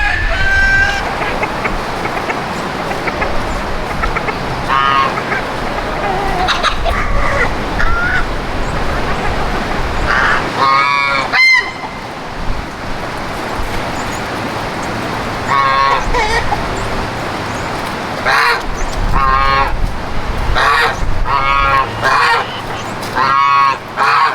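Geese honk loudly on a homestead alongside crowing roosters and clucking chickens, a dense close barnyard chorus of overlapping calls with repeated sharp honks throughout.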